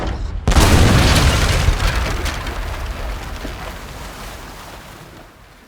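Heavy cannon fire from warships in the Age of Empires III: Definitive Edition strategy game, a loud booming blast that cuts in suddenly and rolls into a long crackling rumble, fading gradually over several seconds with no voices.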